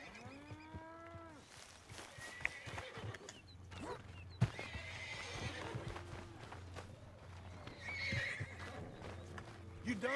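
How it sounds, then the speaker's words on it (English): A Kentucky Saddler horse in Red Dead Redemption 2 lets out a rising-and-falling whinny at the start, followed by soft hoof clops and livestock lowing in the background, with voices talking quietly over the farm scene. "What horse is this? Kentucky Saddler."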